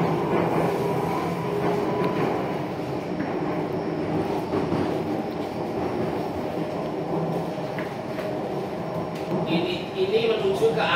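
A Jakarta MRT subway train running between stations, with a steady, loud rumble and rolling wheel noise filling the cabin throughout and a faint whine rising near the end.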